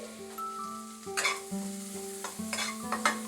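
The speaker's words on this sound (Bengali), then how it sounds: "এবার পেঁয়াজটাকেও আমি ফ্রাই করে নেব আরো 1 মিনিট" Chopped green spring onion and garlic frying over medium flame in a pan for a chicken soup, a steady close sizzle with stirring scrapes and soft utensil taps, no talking.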